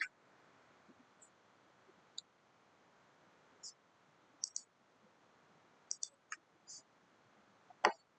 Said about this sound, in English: now we click on start for download